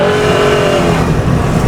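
A Nissan Patrol on 37-inch tyres, fitted with an LS3 intake and making 440 horsepower, gives a loud, close engine roar that surges under throttle.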